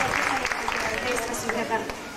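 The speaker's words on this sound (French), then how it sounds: "Alors on peut les applaudir très fort" Audience applause at a morning exchange event, a broadband wash of clapping with occasional sharper claps, heard under a voice talking over it.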